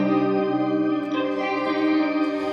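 A Strymon BlueSky reverb pedal adds a shimmer effect to a guitar, giving a sustained, layered tone with a bright octave wash that swells and lingers for a few seconds at moderate volume.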